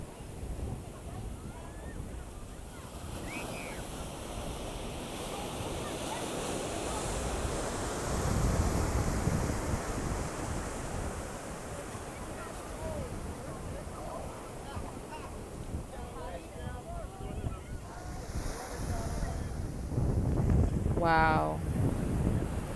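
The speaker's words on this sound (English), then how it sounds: "listen to the frequency and the waves in the background." Ocean waves roll and break on the shore, a steady wash of surf mixed with wind rumbling against the microphone, swelling louder at times, with a few faint brief higher calls and no clear talking.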